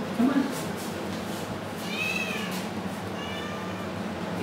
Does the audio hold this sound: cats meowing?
yes